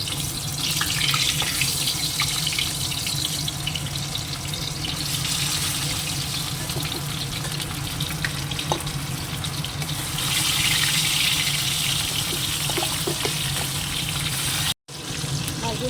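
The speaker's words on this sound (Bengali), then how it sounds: "তেলটা গরম হয়ে গেছে মাছটা দিয়ে দেবো" Fish frying in hot oil gives a steady, dense sizzling hiss that gets louder partway through and cuts out briefly near the end.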